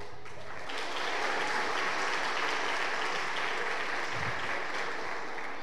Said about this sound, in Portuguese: se o Maciel gostar da piada, ele vai aplaudir, vocês aplaudem junto